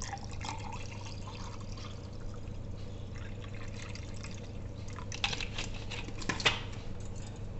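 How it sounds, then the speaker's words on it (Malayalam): Soda poured into lemon drink powder gives a steady fizzing, trickling pour with a few sharper splashy bursts toward the end, close and alone. "ഞാൻ സോഡയാണ് ഒഴിക്കുന്നത്"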